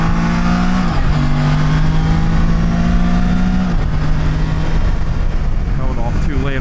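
A car engine climbs and accelerates along Route 16, a hill country road outside Kerrville, Texas, loud and close throughout, its pitch rising, dipping and surging again as the throttle is worked.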